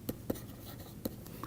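Chalk or marker strikes a lecture board in a few quick, faint taps and short strokes, quiet and close, with no talking.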